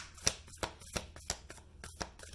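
A deck of slightly sticky tarot-style cards is shuffled by hand, giving a steady series of sharp riffling slaps about three per second, close and clear, with no talking.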